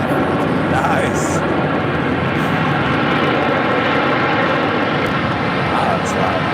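Airplane engine roaring loud and steady at an airport, a continuous broadband rumble filling the whole moment, with a voice talking faintly underneath.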